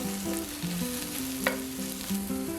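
A diet pancake fries in coconut oil in a pan with a close, steady sizzle and faint stirring taps. No one talks.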